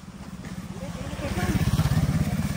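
A motorcycle passes close by on a village road with a steady mid-pitched engine putter that grows louder toward the end, while people talk over it.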